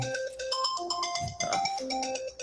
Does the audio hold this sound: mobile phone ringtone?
yes